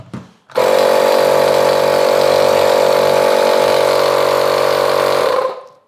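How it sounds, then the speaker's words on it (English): A Makita DMP180Z 18V cordless tyre inflator switches on and runs with a loud, steady motorized buzz for several seconds, then cuts off. "All tyre inflators are quite loud"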